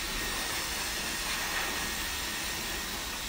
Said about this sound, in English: the blow dryer is going to do the job, and it will be faster